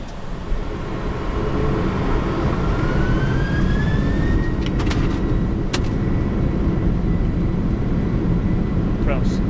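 Boeing 747-400 engines spool up to takeoff thrust on an Atlanta runway, heard from the cockpit as a loud, steady roar with a rising whine, while crew voices speak over it.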